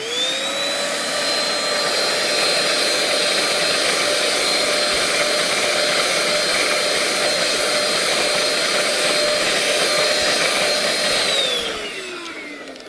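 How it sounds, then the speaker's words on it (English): A Shark vacuum cleaner whines steadily at close range for over ten seconds, then powers down with a falling pitch as the motor winds off. "Now, their directions called for running the vacuum cleaner"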